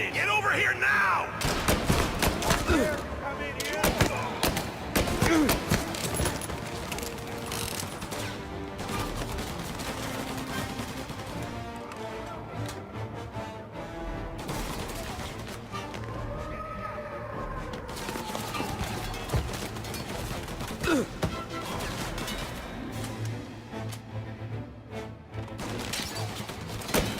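Gunfire fills a tense stairway shootout in the video game Mafia Definitive Edition, with dense, repeated shots and crashes running almost without pause over a steady backdrop of game sound and occasional shouting voices.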